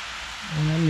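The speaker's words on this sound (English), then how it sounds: "I'll probably spend 30 minutes or so hosing this thing down real thoroughly" Water from a garden hose sprays onto a canvas tent as a steady hiss, and it grows louder midway as the spray hits the fabric more directly.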